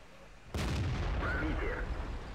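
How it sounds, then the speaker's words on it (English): A tank gun in World of Tanks fires one loud, close blast that starts abruptly and leaves a long, rumbling tail lasting the rest of the moment. "So, nice aim and shot on a stock T-150 in the distance."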